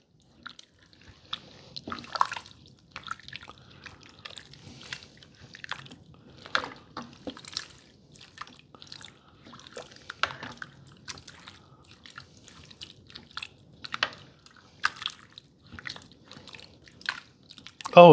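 Wet, squishy stirring of taco pasta ingredients in a slow cooker comes through as soft, irregular scrapes and squelches spread across the whole stretch, fairly quiet, with no talking.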